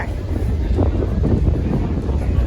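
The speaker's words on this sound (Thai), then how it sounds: "โหลมแรงมากๆ เลยเพื่อนๆดูสิ" Strong wind roars and buffets the microphone in a steady low rumble, with faint voices in the background.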